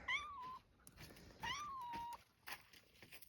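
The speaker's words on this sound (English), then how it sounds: "What are you meowing about?" A cat meows twice, each a drawn-out, rising-then-falling cry, with a short pause between and some quiet rustling afterward.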